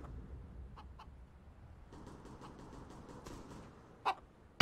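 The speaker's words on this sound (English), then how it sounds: "There's a chicken on shore." A chicken in the game CS:GO clucks in a few short, moderately loud bursts over faint background game ambience, with a sharper cluck near the end.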